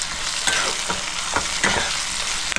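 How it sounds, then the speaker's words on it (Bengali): Tomatoes stir-fried with pangas fish masala in a pan over low gas, a constant sizzle overlaid by several distinct spatula scrapes and knocks as the mixture is turned. "টমেটোটা দিয়ে ভালো করে মিক্স করে নিচ্ছি।"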